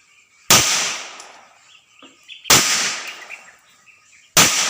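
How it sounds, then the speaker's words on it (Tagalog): Loud sharp gunshots during firearms shooting practice, three reports spaced about two seconds apart, each with a quick echoing tail, with faint outdoor background between shots. "Still firing."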